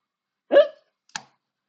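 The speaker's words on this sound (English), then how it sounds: "Oh, hiccups." A single loud hiccup, quickly followed by a second fainter, shorter hiccup about half a second later, in a quiet room with no talking.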